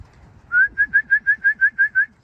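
A red check racing pigeon hen gives a run of nine even, clear whistled coos in steady rhythm, close and fairly loud over faint low background noise.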